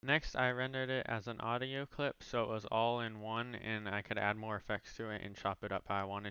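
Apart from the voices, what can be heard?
No everyday noises stand out.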